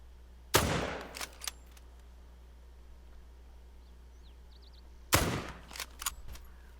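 Two loud rifle shots in theHunter: Call of the Wild, several seconds apart, each followed by a short echoing tail and faint secondary clicks over a quiet outdoor ambience with a steady low hum.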